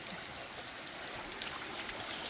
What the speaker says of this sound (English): This is Dennery by the waterfall.